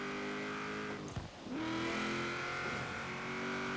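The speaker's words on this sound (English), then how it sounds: "just kind of drive around in the Boss 302" A Ford Mustang Boss 302 in a racing video game, played on a steering wheel controller, drones with a steady engine note that dips briefly and then revs back up, loud and continuous with no talk.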